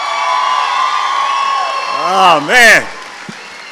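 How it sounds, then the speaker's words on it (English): Graduation ceremony crowd at a 2024 high school commencement breaks into cheering and whoops after a brief spoken remark, swelling in two loud bursts over steady hall applause. "Let's give our 2024 graduates another round of applause."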